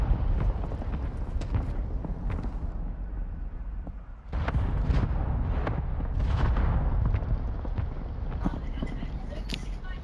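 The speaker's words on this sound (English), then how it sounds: "Somebody just sent a mortar strike up here." Mortar strike in Call of Duty Modern Warfare II: a continuous heavy rumble of explosions and booms, with a brief dip before another loud wave of blasts and scattered sharp impacts.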